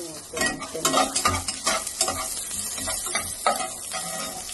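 Onions sizzle and fry in a pan while a utensil stirs them, giving a steady crackling hiss with repeated scraping strokes close to the microphone.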